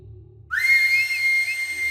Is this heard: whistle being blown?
yes